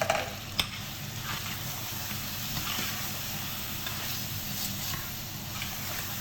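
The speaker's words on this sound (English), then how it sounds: "Yeah, just keep stirring it. Make sure it doesn't stick to the bottom." Meat vindaloo curry stirred in a pan over medium heat with methi leaves and lemon juice, a steady close sizzle with soft scraping of the spoon, one sharp knock near the start, no talking.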